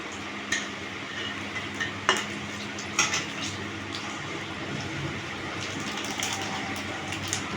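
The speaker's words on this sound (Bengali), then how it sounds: "লঙ্কা দিয়ে দিলাম তেলে" Chillies sizzling in hot oil, a steady crackling fry with occasional sharp spoon taps and clinks against the pan as it is stirred.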